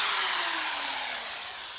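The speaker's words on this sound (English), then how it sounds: "So there's our drill, and we want to poke a hole." Power drill whirring as it bores a hole into a scrap tire, a single steady high-pitched spin that slowly winds down, close and alone.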